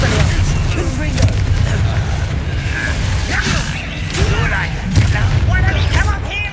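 A Confringo blasting spell explodes in the Hogwarts Legacy video game, giving deep booms and whooshing blasts over a dense, continuous layer of battle noise, with game character voices heard throughout.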